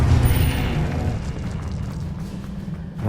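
A magical Confringo blasting spell explodes in the Hogwarts Legacy game, a loud booming burst with heavy low rumble that rolls on steadily for about three seconds, with no talk over it.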